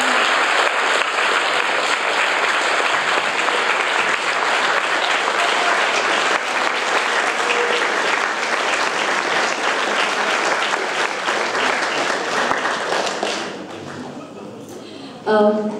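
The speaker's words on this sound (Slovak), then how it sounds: "Takže prosím potlesk našim všetkým ostávancom." Steady audience applause for a theatre cast after a stage performance of Konštantín a Metod, dense clapping that holds then fades toward the end before a brief knock.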